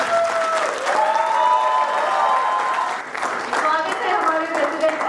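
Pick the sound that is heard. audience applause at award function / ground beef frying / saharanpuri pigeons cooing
audience applause at award function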